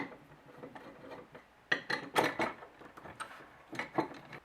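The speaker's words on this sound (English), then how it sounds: "there are 2 Phillips screws here that I have to back out to get this completely apart" Phillips screws being backed out of an Iron Cobra drum pedal footboard, faint close-up scraping and rubbing of metal with small clicks and irregular creaks, no voices.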